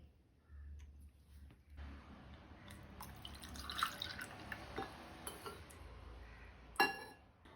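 Ice goes into strained kokum sherbet, a few glassy clinks and small drips, faint and close, with quiet handling sounds between them.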